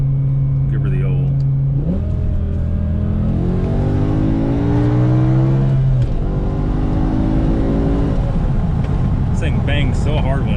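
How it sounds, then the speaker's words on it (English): BMW M5 accelerating hard at full throttle, engine climbing through the revs with abrupt gear shifts between pulls, loud and close inside the car. "This thing bangs so hard when it shifts when you're flooring it."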